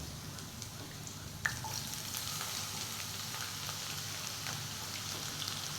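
Onions go into hot oil in a pan, setting off a loud, steady sizzle and crackle up close, with a sharp clink as they drop in.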